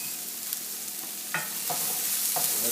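Garlic and onion hit a hot pan for Marsala chicken, a steady close sizzle broken by a few sharp scraping stirs.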